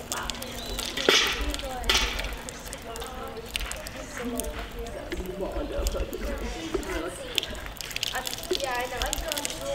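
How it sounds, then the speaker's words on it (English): Water splashes and squirts as a horse's mouth is rinsed during a dental class, with wet bursts and drips close by among clatter, under people talking. "I'm just rinsing on his mouth."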